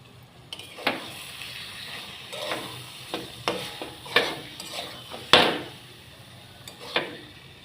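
Stirring potato and pointed gourd curry with ghee and sugar in a pan, a series of scraping spoon strokes and clinks against metal, moderately close, with a light sizzle underneath.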